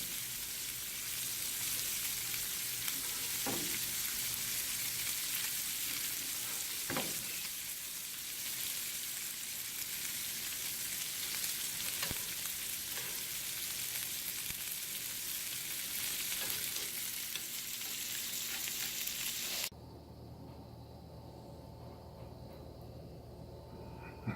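Pork chops and baby potatoes frying in butter on a Blackstone griddle give a loud, continuous crackling sizzle with scattered pops. The sizzle softens and dulls abruptly near the end.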